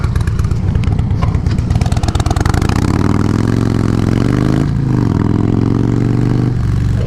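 A Harley-Davidson Dyna Low Rider S motorcycle cruises on a turnpike, its loud, steady engine drone rising in pitch as it accelerates, with a clattering rumble at first and wind noise throughout.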